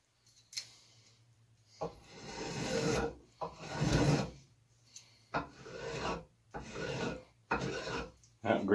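An old spokeshave shaves green wood for an axe handle in a series of rasping strokes, each a second or so long, close and moderately loud with brief pauses between them.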